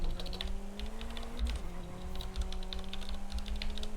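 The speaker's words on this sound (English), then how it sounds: "Hear me click-clacking away on my mechanical keyboard here." Mechanical keyboard typing, a steady run of crisp clicks and clacks close up, with a faint background hum from the computer setup.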